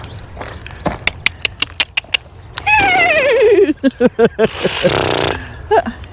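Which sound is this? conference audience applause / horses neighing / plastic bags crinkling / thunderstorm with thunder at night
horses neighing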